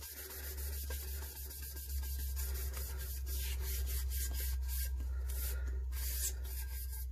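Mica powder is burnished onto a tumbler by hand, a steady close-up rubbing and scratching over a constant low hum, with no talking.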